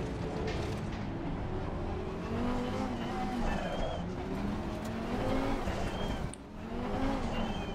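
GT race cars racing in a video game, a continuous engine drone with rising and falling revs and gear shifts, several cars close together, steady and moderately loud.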